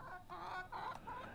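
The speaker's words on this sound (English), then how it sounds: "Here we have a chicken." A chicken in the video game Elsewhere clucks in a soft, steady run of short calls over a quiet ambient game background.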